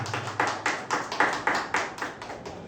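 Applause at a school ceremony installing a new director at Lycée National Philippe Guerrier in Cap-Haïtien, greeting the deputy departmental director; a steady, fairly small group claps in a regular rhythm at close range, with a low hum underneath.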